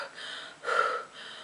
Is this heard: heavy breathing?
yes